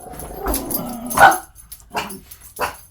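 Puppies barking and yipping close by, several short high bursts spaced irregularly over three seconds with soft whimpering noise between them, no talk.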